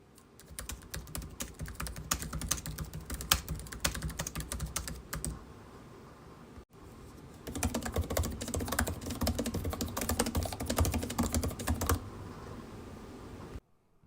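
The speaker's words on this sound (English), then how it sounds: "I've recorded the following 2 clips so you can get a better idea of what both keyboards sound like." Steady typing on a laptop keyboard, quick soft clicks in continuous bursts with a brief pause midway, close and fairly quiet.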